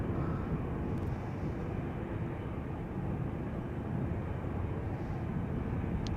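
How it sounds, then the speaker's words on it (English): An Air Canada Boeing 787-8 Dreamliner departs Amsterdam Schiphol for Montreal, its engines a steady, broad roar that holds constant and fairly loud throughout, with no voices. "Air Canada flight 901 going to Montreal with the loot."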